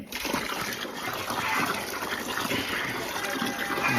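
Water pours steadily for a few seconds, a continuous splashing gush close by with a faint voice underneath.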